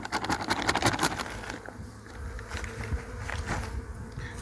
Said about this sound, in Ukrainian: Відкрили наступну бджолину сім'ю.